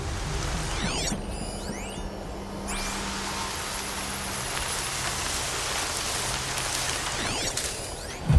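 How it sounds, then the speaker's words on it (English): Rain falls steadily in the video game Horizon Zero Dawn, a soft continuous hiss of drops on surfaces, with faint mechanical whirs and chirps appearing now and then in the background. "Rain's been building for long enough."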